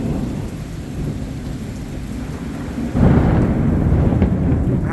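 Heavy rain pours down steadily during a severe July 4th thunderstorm, and a loud rumble of thunder from a nearby lightning strike rolls in partway through and holds under the downpour.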